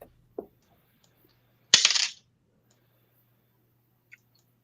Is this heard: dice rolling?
yes